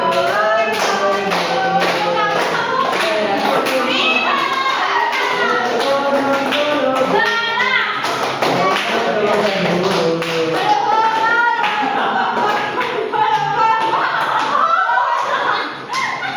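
A classroom of students clapping their hands together, a dense, loud, continuous patter of many claps sustained throughout with some faint laughter mixed in.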